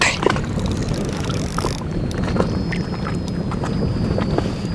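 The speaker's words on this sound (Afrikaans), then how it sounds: "Julle kan hoor hoe sing hierdie lyn." A thin, high, steady whine from a fishing line singing under heavy strain from wind and a fighting fish on Klipdrift dam, rising partway through over constant wind buffeting and rumble.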